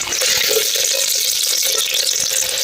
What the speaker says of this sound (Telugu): దీన్నే ఉల్లిపాయల తాలింపు